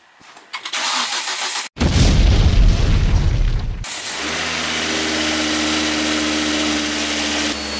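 An older Volvo engine, freshly fitted with a VVT hub, cranks with a loud whir, cuts briefly, then catches and roars to life before settling into a steady, rumbling idle close to the microphone.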